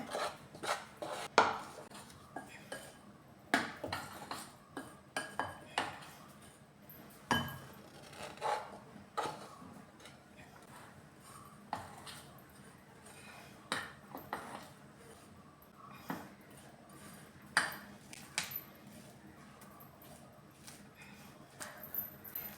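A spoon clinks and scrapes against a bowl while brownie batter is mixed, irregular sharp taps and knocks scattered over a quiet background, fairly faint and close.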